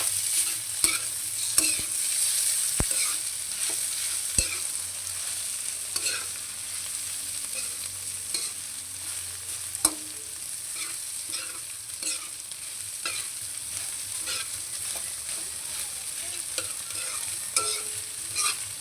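Carrots and eggs stir-fry in a pan with a steady sizzle, punctuated by occasional sharp clinks and scrapes of a utensil as the food is mixed, with no talking.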